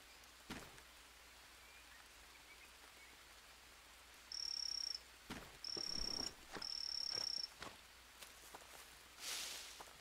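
Insects and frogs in the Green Hell jungle survival game: a faint steady night chorus underneath, with three sharp chirping bursts in the middle, a few soft thumps and a brief hiss near the end.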